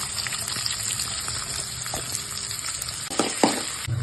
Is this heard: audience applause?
no